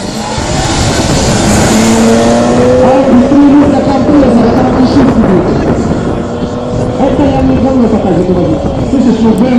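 Loud drag racing engines, including an Infiniti and a Mercedes at the start line, roar and rev continuously at close range, with several vehicles accelerating together and a voice faintly mixed in.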